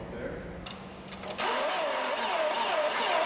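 A passenger car engine running 10W30 oil cranks in extreme cold, first a slow labored grinding, then the engine catches and settles into a steady, rising-and-falling run, with a voice talking faintly alongside.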